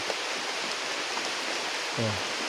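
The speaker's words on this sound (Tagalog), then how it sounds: "Panay pa rin yung pabugso-bugso ng ulan." Gusty rain pours down under banana leaves during a typhoon, a steady dense hiss of water close around with no break, and a faint low thump near the end.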